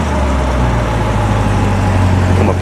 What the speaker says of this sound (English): Listen to Deb rev it up.